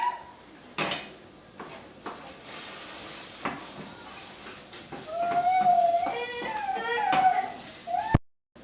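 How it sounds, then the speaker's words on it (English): A spoon stirs fried potatoes for a honey mustard ham hash, clinking and scraping against the pan in scattered knocks, followed by a voice in the background. "let me stir my potatoes really quick"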